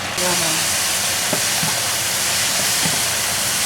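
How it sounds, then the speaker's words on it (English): Meat, apparently lamb, sautéed with onion and Chinese sauce gives off a loud, steady broadband sizzle and hiss that runs unbroken throughout, with a few faint low knocks beneath it. "now we're sauteing the meat along with the onion."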